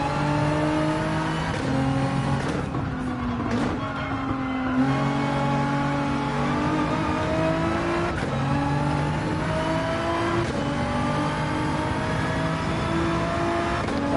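Nissan Skyline race car in Gran Turismo 7, its engine revving hard and climbing through the gears with steady upshifts, a loud continuous drone with no talking.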